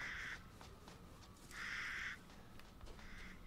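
Crows caw in the horror game Resident Evil Village: three harsh, drawn-out calls spaced a second or so apart, fairly faint over a low ambient background.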